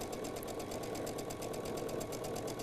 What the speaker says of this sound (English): So I'm going to stitch just a little piece of this.